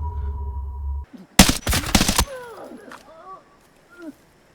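A rapid burst of loud gunfire crackles for about a second in the video game Arena Breakout: Infinite, followed by quieter game sound effects and a faint voice.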